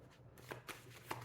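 Tarot cards being shuffled by hand, a brief run of soft riffling snaps and flutters with a few sharper bursts, close and fairly quiet with no talking.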